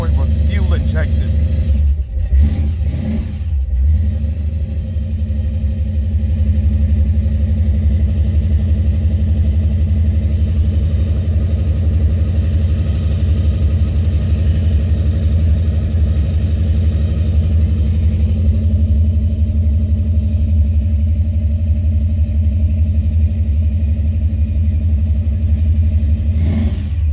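A Buick 455 Stage-1 engine in a Regal T with an H.E.I. distributor cranks briefly and catches right away, then settles into a loud, steady, rumbling idle that runs close by without a break.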